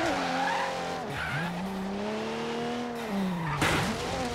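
A Chevrolet Omega 4.1 turbo drifting with the handbrake in Forza Horizon 3, its engine droning steadily with wavering pitch under long tire squeal, and a sharp surge near the end, continuous and close.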